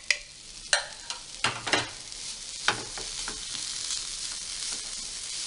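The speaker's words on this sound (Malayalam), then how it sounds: "ഇളക്കി കൊടുക്കുക" Vegetable momo filling, with vinegar and chopped coriander, being stirred in a hot pan: sharp scraping strokes and clanks over a constant close sizzle.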